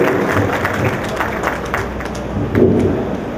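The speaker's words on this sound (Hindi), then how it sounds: "एक बार जोरदार तालियां नेहा" Audience applause at a Hindi poetry gathering in Hyderabad, a dense wash of many hands clapping that carries on steadily through the whole stretch.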